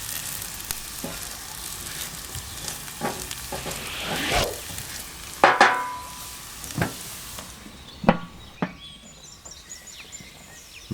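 Potatoes for Bombay potatoes fry in a pan with a steady close sizzle, broken by occasional sharp clinks and scrapes of stirring, and no voices.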